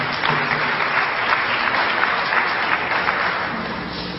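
An audience at a lecture breaks into sustained applause, dense and even clapping from start to finish, loud and close, fading slightly at the end.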